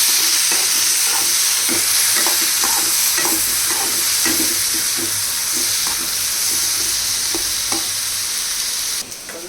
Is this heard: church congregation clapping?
no